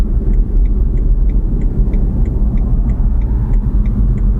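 A BMW i3 electric car drives along with a steady low road rumble and faint repeated ticking, heard from inside the cabin.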